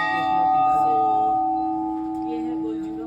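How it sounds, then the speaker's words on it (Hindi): Bells ring at the Golu Devta temple with a sustained metallic tone that holds steady and slowly fades over a few seconds, with faint voices in the background. "ये है गोलजू का मंदिर और इसकी जो मान्यता है वो है ये घंटियाँ"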